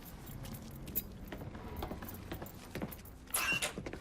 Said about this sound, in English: I grabbed the keys to the truck